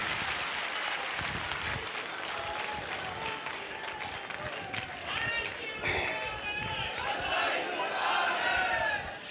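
Seminar audience in a large hall clapping hard and cheering, a dense sustained roar of applause with shouts rising louder toward the end.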